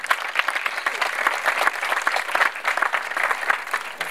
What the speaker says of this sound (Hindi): खुदा के जलाल के लिए जोरदार तालियां बजाएंगे